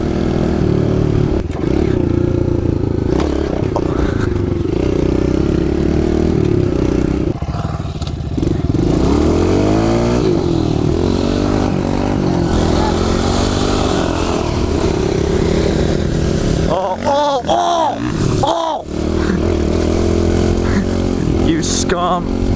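A 2017 Kawasaki KLX 110 pit bike engine revs and runs loud and close on dirt trails, with rising and falling throttle sweeps over steady engine drone and clattering, while someone talks over it.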